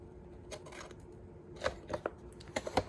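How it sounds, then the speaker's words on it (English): Scissors snip the corner of folded cardstock to miter a paper-crafting edge. A handful of quiet, crisp clicks and rustles come up close, clustered toward the end, with no talking. "put your scissors at the end, and miter that little edge"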